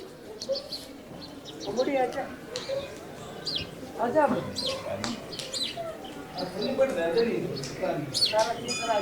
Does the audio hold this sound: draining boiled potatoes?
no